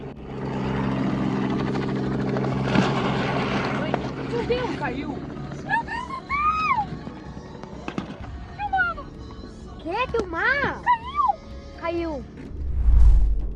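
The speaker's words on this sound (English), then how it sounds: "A helicopter crashed in the countryside in Boa Vista da Aparecida," A helicopter's rotor throbs loudly at first, then fades, with excited voices shouting and talking over the engine noise, in the countryside at Boa Vista da Aparecida, Brazil.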